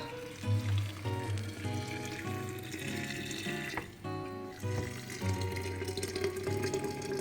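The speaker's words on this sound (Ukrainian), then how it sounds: "Наступний бутиль. Наливаємо кип'яток." Boiling water pours steadily into a glass bottle, a gurgling splash with a rising tone as it fills, paused briefly midway.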